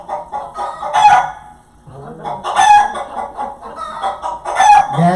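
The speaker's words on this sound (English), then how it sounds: "that's them chickens" Chickens cluck and a rooster crows in repeated loud bursts, close and clear, with brief quiet gaps between calls, heard over a radio show.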